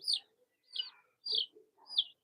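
Young chicks give four short, high chirps in an even, spaced rhythm, close and fairly quiet against a silent background.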